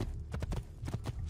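A horse gallops in Assassin's Creed 2, its quick, regular hoofbeats thudding close and clear in a steady rhythm over a brief stretch.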